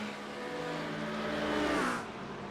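Race car engines roar steadily in a sim racing game at Motegi, one car swelling louder as it passes close around 1.5 seconds before fading, with no talk.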